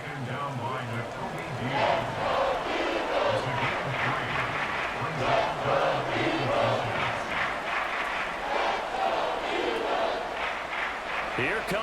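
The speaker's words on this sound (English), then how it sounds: "Here comes a big one as this crowd gets up making some noise." Crowd noise from a Madden 24 football video game, Philadelphia Eagles vs Dallas Cowboys, a continuous roaring stadium cheer that swells steadily, heard under a play-by-play commentator talking throughout.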